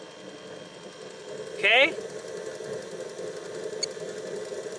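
A JetCat P-100RX turbine in a BVM Bandit Mk II jet is starting up. A steady, loud, hissing roar carries a high whine, and a brief swept chirp rises partway through. A voice speaks briefly.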